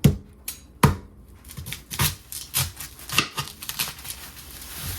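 An onion being peeled by hand for homemade gravy during turkey prep: crisp, papery crackles and snaps of dry skin in irregular close bursts, with quieter rustling between.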